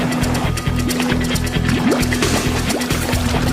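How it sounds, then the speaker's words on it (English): Water sprays continuously at a car wash, a steady rushing wash over a low rhythmic machine drone that pulses throughout, close and fairly loud. "I think they're getting the car washed again"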